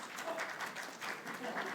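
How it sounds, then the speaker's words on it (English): A small audience at a school district board of education meeting gives a brief, light round of applause after a presentation. The clapping is faint and short, with voices mixed in. "I think that's the first time anybody's gotten applause in a presentation."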